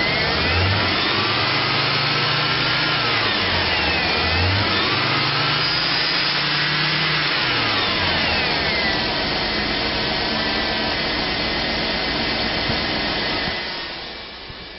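A 2005 Chevy Tahoe's 5.3 liter engine with automatic transmission idles close by, rising and falling through a few gentle revs before settling into a steady drone that fades slightly at the end.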